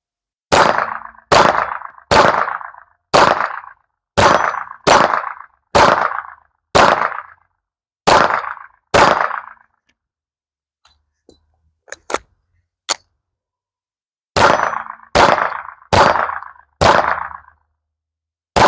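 A series of loud, evenly spaced gunshots strikes a DIY shooting backstop target, about ten sharp reports, then a pause with faint clicks before four more shots in quick succession.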